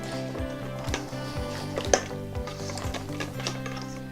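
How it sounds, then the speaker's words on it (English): A wire whisk stirring pudding mix and half-and-half in a bowl: quick repeated clicking scrapes against the bowl in a steady rhythm, close and moderately quiet, over a faint tonal background. "Now we're just going to stir with our wire whisk."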